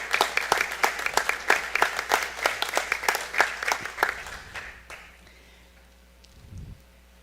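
Applause from a school board meeting audience honoring a retiring district teacher, steady claps for about five seconds that then fade out, leaving a quiet room with a brief low thump near the end.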